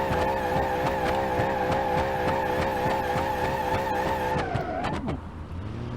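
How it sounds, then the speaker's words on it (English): Go-kart engine in BeamNG.drive with a steady high supercharger whine layered over a pulsing motor drone, holding loud and even before the pitch sags and fades near the end, no voices. "I love the supercharger whine."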